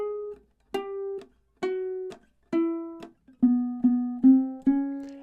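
A ukulele plays measures 19 and 20 of a song: eight clear plucked notes, each held then cut short, the later ones lower and louder, alone and close.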